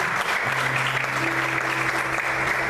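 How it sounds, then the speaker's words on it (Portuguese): Church congregation claps in praise, a continuous even roar of many hands with a soft sustained low tone beneath from instruments or sound system. "Aplauda o Senhor com alegria."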